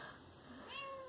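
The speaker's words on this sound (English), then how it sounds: "Here's the cat, everyone." A cat gives a single clear meow in the middle of a quiet room, close and fairly soft, with no talking.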